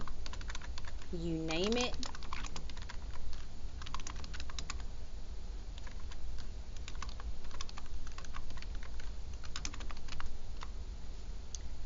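Keys clatter steadily on a computer keyboard while someone enters an email address, a continuous quiet patter of clicks beneath a voice that speaks briefly.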